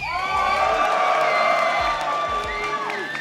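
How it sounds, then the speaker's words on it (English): A big crowd at a League of Legends esports grand final roars and whoops in sustained cheering, loud and continuous, with low thuds pulsing beneath the voices. "Feels like Fnatic are winning out on fan support to me for now"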